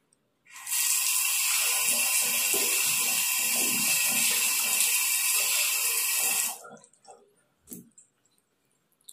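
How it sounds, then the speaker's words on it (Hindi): Water sprayed hard onto a dirty washbasin makes a loud, steady hiss for about six seconds before cutting off, followed by a few faint drips and knocks. "इस तरीका से हम पानी मारेंगे सबसे पहले।"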